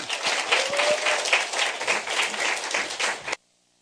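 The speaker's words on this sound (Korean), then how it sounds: "여러분 앞으로 나오실 때 뜨거운 박수 한번 부탁드릴까요?" Audience applause at a presentation contest as a presenter comes forward, dense sustained clapping from a crowd in a hall that carries on for about three seconds and then stops abruptly.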